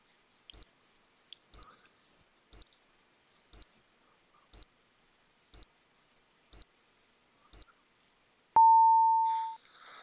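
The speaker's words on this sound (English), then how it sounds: "that's a good countdown timer for you" Countdown timer ticking off seconds with nine short, evenly spaced beeps about once a second, then a long, loud steady tone that sounds alone and fades at the end.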